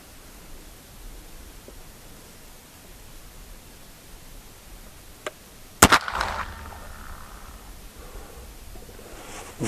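A single sharp crack from a .54 caliber Hawken muzzleloader rifle with a 70 twist Green Mountain barrel and L&R lock and trigger, fired at a 25-yard target outdoors, loud against quiet background hiss, followed by a brief rumbling tail.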